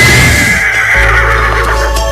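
Kuda Sembrani, a horse, lets out a loud, close whinny that trails off over a steady low rumble and music.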